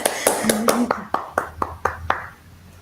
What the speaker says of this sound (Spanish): Bueno, un aplauso virtual.